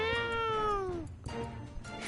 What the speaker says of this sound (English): I heard the telltale sign of a fatter cat.